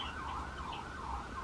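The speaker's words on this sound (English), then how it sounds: "All the sirens." Emergency vehicle sirens wail outside, a wavering up-and-down tone heard at a moderate distance over low traffic rumble, with no voices.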